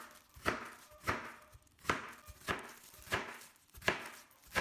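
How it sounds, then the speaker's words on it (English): A knife chops watermelon into moderate pieces on a clean cutting board, giving six evenly spaced, crisp thunks about every 0.7 seconds, close and clear with nothing else heard. "Then cut it into moderate pieces."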